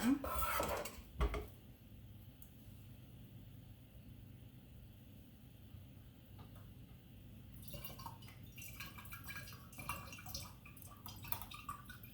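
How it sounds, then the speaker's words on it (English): Roasted garlic for garlic-infused oil and confit being dumped into a glass mason jar: a brief clatter and clink at the start, then quiet wet dripping and soft handling noises. "Dumping the garlic, the roasted garlic, in my mason jar."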